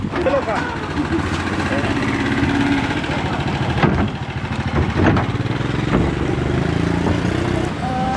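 A motorcycle in Laos passes close by with a steady, fairly loud engine drone, heard over a bustling background where people talk nearby.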